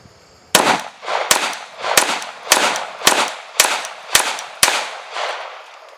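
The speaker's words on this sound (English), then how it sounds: "1911 rapid fire test" M1911 pistol fired in rapid succession in Call of Duty Black Ops, eight loud sharp gunshots at a steady pace, each followed by a short echoing tail, with no talking.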